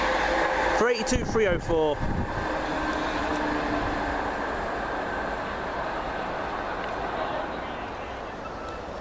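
Chiltern Railways train on the London Marylebone to Birmingham Moor Street service passing Widney Manor, a steady rolling rumble with a horn-like tonal burst near the start, fading gradually, with a voice briefly speaking early on.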